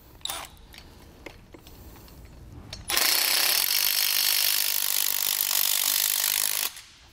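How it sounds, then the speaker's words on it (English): Lock nuts tightened onto U-bolts on a Malone MicroSport trailer: a few light metallic clicks and taps, then a loud, continuous power-tool whir lasting about four seconds before stopping abruptly. "We'll bring our U-bolts up through the bottom and then put two lock nuts on. Do our second U-bolt. And now we'll just tighten everything down."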